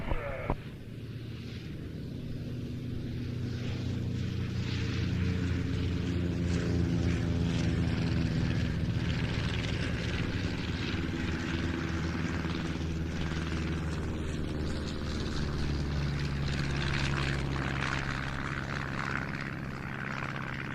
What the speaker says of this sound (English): the two types that we see in the lead here, the SE-5A and the Nieuport 17